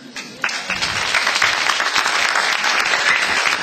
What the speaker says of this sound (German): Und bitte den allerwichtigsten Applaus,